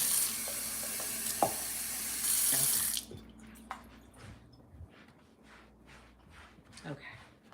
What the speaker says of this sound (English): Let me get me a little cup of water